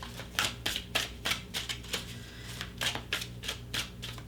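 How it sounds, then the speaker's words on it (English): Tarot deck being shuffled by hand during a reading: a quick run of crisp, papery riffles and slaps, repeating in irregular bursts, close and fairly quiet, with no talking. "let's shuffle a little bit more here"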